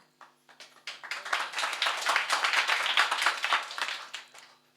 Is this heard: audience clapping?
yes